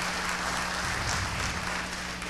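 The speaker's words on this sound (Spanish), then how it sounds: "Un aplauso, por favor, a Susana." Sustained audience applause at a panel of a public directors' annual meeting, a loud, dense and even roar of clapping that fills the room, heard alone with a steady low hum beneath it.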